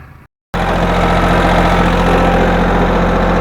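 A tractor engine runs at idle, loud and close, with a steady low rumble and vibration. It starts abruptly after a brief silence and continues without talk.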